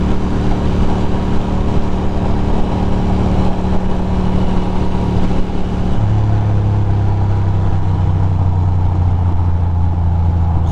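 Ducati motorcycle cruising toward Manhattan over the Queensboro Bridge, a steady close engine hum with strong wind and road rush, the engine note dropping into a lower, louder drone about halfway through, with no voices.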